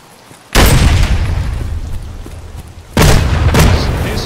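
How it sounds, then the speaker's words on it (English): Two heavy grenade blasts in a video game, each a sudden loud boom followed by a rumbling decay, the second arriving about two and a half seconds after the first. "There's like legitimately like 12 grenades have gone off."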